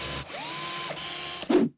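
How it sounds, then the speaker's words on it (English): A power drill runs at a steady whine that slowly winds up in pitch and holds, then a brief ratcheting chatter and a louder mechanical burst near the end; no voices. "Drill."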